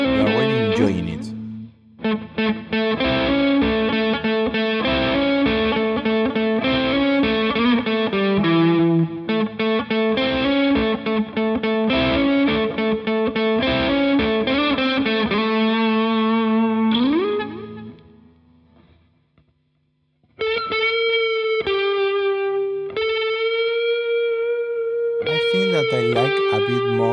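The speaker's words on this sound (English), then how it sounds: "The guitar itself sounds like more balanced." An electric guitar played through effects such as distortion and chorus, heard up close as loud, steady sustained notes and phrases, then a brief near-silent pause before more held, bending notes.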